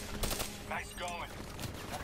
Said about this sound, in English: I'm shooting back at the enemy.